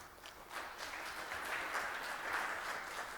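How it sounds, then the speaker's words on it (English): Light, steady applause from a modest crowd at a regional multi-stakeholder forum, a thin patter of clapping that holds at an even level throughout. "they deserve a round of applause."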